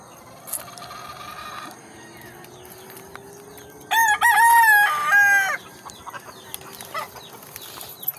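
Roosters crow at a breeding pen, a loud near crow in the middle standing out against softer distant crowing and clucking, with scattered mechanical clicks around it.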